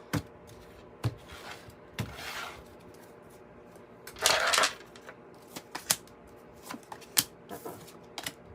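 Tarot cards are shuffled in quick, irregular flicks and taps, with a louder riffling burst midway, close up and without talking.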